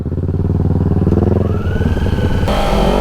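A motorcycle engine runs loud and close, revving up and then slowing as the RPM drops, with a steady throbbing pulse throughout and a sudden shift in tone near the end.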